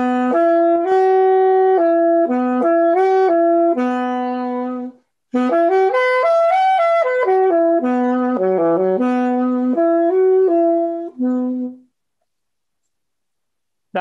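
A suspended chord on saxophone is played one note at a time in two loud, close, sustained phrases of stepping tones, with a brief gap between them and silence at the end.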